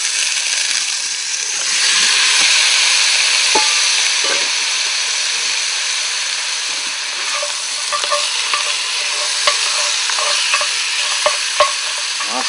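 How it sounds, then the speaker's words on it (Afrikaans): Ostrich neck sears in a hot pot, a steady loud sizzle running throughout with occasional sharp pops and crackles, no voices over it. "soos nou die volstruisnek insit, wil ek hom seel in al sy kante"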